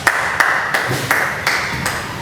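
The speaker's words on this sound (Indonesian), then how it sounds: "Tepuk tangan buat Mas Putra ya" Classroom applause for a student, six or seven sharp, evenly spaced claps in quick rhythm, close and fairly loud over a quiet room.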